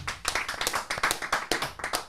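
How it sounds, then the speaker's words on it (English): A few people in a podcast studio clap quickly and unevenly for a couple of seconds, close and crisp, with no talking over it. "Can we get a clap for that?"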